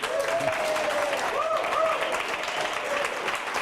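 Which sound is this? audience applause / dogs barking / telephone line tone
audience applause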